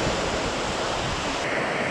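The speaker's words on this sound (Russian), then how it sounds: "А море сегодня довольно спокойное, приятное." Calm sea waves washing ashore at Anapa on the Black Sea coast, a steady broadband surf wash heard close and continuous, with no voices over it.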